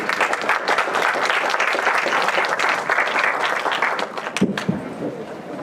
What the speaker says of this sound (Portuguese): palma de palmas para a equipe